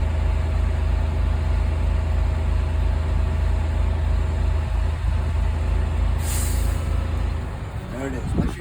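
A truck engine idles steadily at about 1,000 RPM in the cab, then the air system governor cuts out at full pressure with a sharp hiss of released air, followed by brief rustling.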